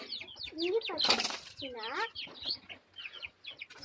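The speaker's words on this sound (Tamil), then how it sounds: "இப்போ நான் காமிக்க போகிறது ஒரு கோழி" Chicken clucking up close in a rustic farm setting, several short squawky clucks and a quick flutter of wings, with a person speaking Tamil over and between the calls.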